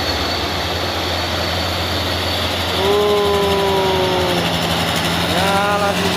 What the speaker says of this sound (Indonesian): Iya, Sinobox menyalip si trailer Hino.